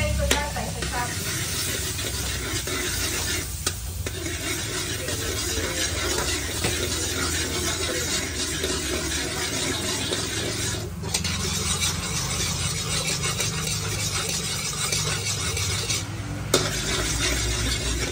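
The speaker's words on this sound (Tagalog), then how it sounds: "pag tunaw na yung butter ay sunod na natin yung dinulog na bawang." Butter melting and sizzling in a frying pan while milkfish (bangus) cooks, with occasional stirring scrapes; a steady, continuous crackle and hiss close by, no talking.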